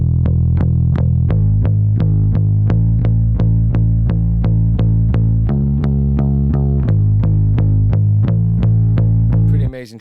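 Indie-rock track with tape emulation and parallel compression: loud, dense, saturated band mix with a steady driving pulse of punchy hits and sustained low chords, playing continuously before cutting off at the end.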